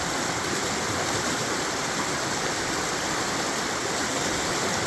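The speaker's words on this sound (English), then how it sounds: "I've never seen this amount of water come down through here." Floodwater rushing down Back Creek on a homestead after about 20 inches of rain, a loud, unbroken roar of churning water close by with no other sounds.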